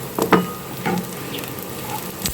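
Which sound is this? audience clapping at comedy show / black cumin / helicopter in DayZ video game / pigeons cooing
black cumin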